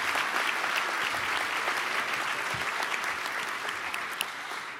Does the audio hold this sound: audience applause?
yes